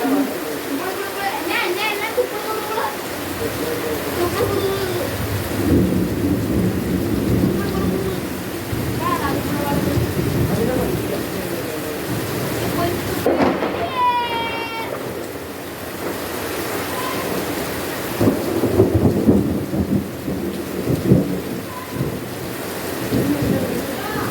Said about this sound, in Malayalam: ഇനി കുറച്ച് നേരത്തേക്ക് വീഡിയോ ഭയങ്കര ഇടിയാണ്.